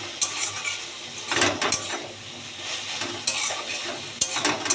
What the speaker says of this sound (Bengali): এবার ভালো করে আমি নাড়াচাড়া করে ভাজা ভাজা করে নামিয়ে নেবো